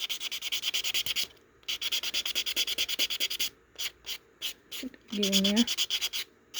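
A nail file rasps over a dip-powder nail in quick, rhythmic back-and-forth strokes, close and crisp, pausing briefly between bursts while someone speaks.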